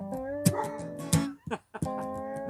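Dogs barking in a neighborhood, several sharp close barks and yips in quick irregular bursts with whimpering tones between them, loud and alone over a brief span.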